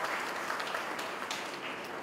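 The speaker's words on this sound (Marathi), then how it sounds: "त्यासाठी सगळ्यात जोरात टाळ्या वाजवायच्या आहेत आमच्या महिलांसाठी" An audience claps at a Dr. Babasaheb Ambedkar Jayanti gathering organised by the Bharatiya Bauddha Mahasabha, a dense, steady patter of many hands, moderately distant, throughout.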